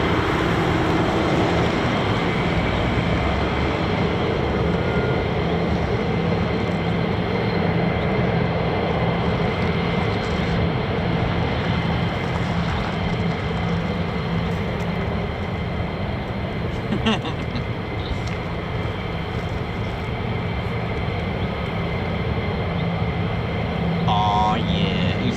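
A USAF F-35A Lightning of the 48th Fighter Wing taxis at an RAF airbase, giving a steady, loud jet-engine roar and whine that holds unbroken throughout.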